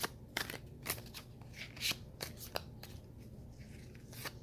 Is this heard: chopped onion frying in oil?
no